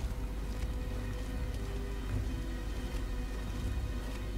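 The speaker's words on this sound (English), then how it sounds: "I hear rain again." Rain falls steadily in the video game NiOh, set around London Tower, a dense even hiss with scattered patters running throughout with no break.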